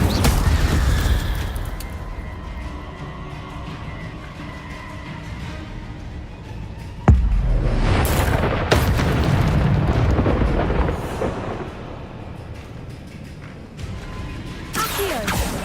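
Incendio fire spell blasts in Hogwarts Legacy ring out as loud rumbling, whooshing bursts over a dense game soundscape, with a sharp surge partway through and more blasts after it.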